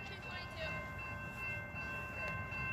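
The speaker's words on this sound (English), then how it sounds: "I don't know what type of train it is, but it should be a CSX locomotive." A CSX freight train locomotive passes at a rail line in Folkston, Georgia, with a loud, steady rumble and clatter throughout and faint sustained horn-like tones over it.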